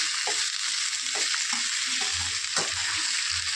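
Tomatoes softening in a hot pan give a steady, close sizzle and bubbling hiss, with a few soft scrapes of a stirring spoon and no voices.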